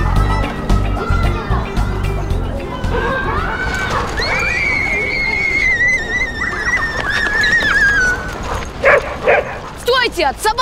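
Dog barks and yips in short bursts over busy, layered background sound with a voice and music-like tones, fairly loud and close.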